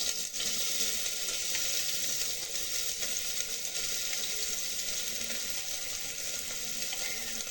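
Cumin seeds and chopped onion frying in hot oil in a home kitchen pan for chole bhature, a steady broad sizzle that runs continuously with no voices.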